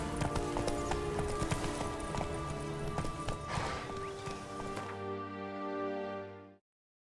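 Hoofbeats from Roach, Geralt's horse in The Witcher 3: Blood and Wine, clopping in a steady rhythm beneath game music and ambience, then slowing to a stop as the scene fades out.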